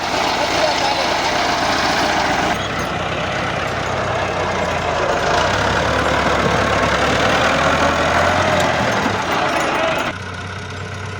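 A heavy tractor engine rumbling and chugging steadily up close beside a pond, loud and continuous, with a shift in tone partway through.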